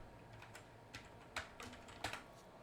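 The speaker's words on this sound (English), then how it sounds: "So go to your browser, type Adobe" Typing on a computer keyboard, a quiet run of irregular clicking keystrokes close by, with no one speaking.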